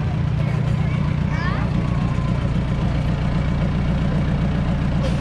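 A WLS 75 narrow-gauge locomotive with a four-cylinder Andoria diesel engine runs steadily at a locomotive parade in Rudy, a loud close low rumble throughout with a voice talking over it.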